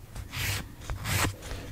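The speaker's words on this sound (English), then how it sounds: "I can definitely do it all with my 180 grit board file." Gel nail extension on a claw-shaped nail is filed with a 180 grit board file, giving soft, close rubbing strokes that swell and fade in a couple of uneven passes.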